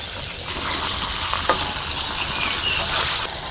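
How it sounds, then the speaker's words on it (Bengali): Large fish heads drop into hot oil in a wok, giving a loud crackling sizzle that bursts up and holds as a dense, steady frying hiss with occasional pops. "কড়াইতে কিন্তু তেলটা গরম হয়ে গেছে, আমি কিন্তু দিয়ে দেবো।"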